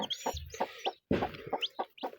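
A hen clucks on the day her eggs hatch, giving a close run of short, repeated clucks with a brief pause partway through.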